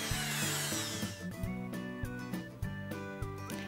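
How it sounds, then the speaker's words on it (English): An electric hand mixer whirs in a bowl of chocolate brownie batter, its motor holding a steady hum with small shifts in pitch and occasional knocks as the beaters touch the bowl. "immerse the mixer into the bowl and then turn it on"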